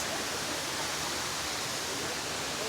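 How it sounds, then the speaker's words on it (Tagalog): Mactol Falls in Nagtipunan, Quirino, rushes as a dense, continuous roar of falling water, loud and steady from start to end with no voices. "Sobrang ganda ng falls."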